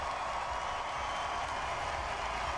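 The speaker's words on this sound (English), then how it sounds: "Listen to the crowd." At the British Grand Prix, a large crowd cheers and claps in a continuous, dense roar that holds at a steady level with no individual voices standing out.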